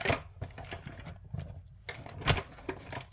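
A manual die-cutting machine cranks card through plates with a rapid, uneven series of close clicks, clacks and ratcheting taps, plus a few thumps, with no talking.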